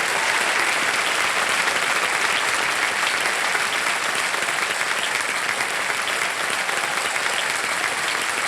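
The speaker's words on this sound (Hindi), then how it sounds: "जोरदार तालियां बज जाए इनके लिए एक बार फिर से" A studio audience at a TV quiz show breaks into steady, dense applause that holds at a constant level throughout, with no voices standing out.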